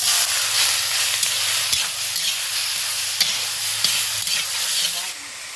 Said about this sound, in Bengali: আমার কড়াই গরম হয়ে গেছে আমি একটু তেল দিয়ে দিচ্ছি